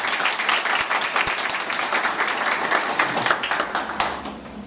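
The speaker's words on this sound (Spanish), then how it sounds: "Así que solicitamos un fuerte aplauso." A crowd at a civic event in Los Alcarrizos breaks into strong, steady applause, many hands clapping densely and close, sustained for several seconds before starting to taper.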